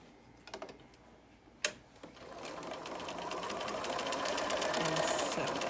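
A sewing machine stitches quilt pieces together at a scant quarter-inch seam, a steady close mechanical whirring that starts after a few soft handling clicks and runs continuously to the end.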